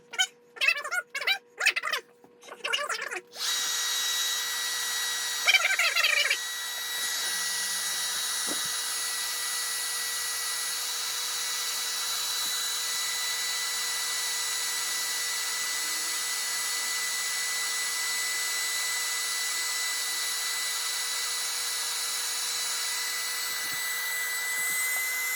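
After a few brief clicks and bumps, an ETENWOLF electric air pump inflating an air mattress runs as a steady, loud, high-pitched motor whine and rushing airflow, unbroken and close for the rest of the clip.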